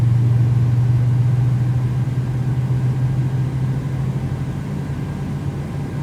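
A Boeing 737NG jet engine spools up after ignition, giving a steady loud low rumble with a strong sustained low hum that eases off slightly over six seconds.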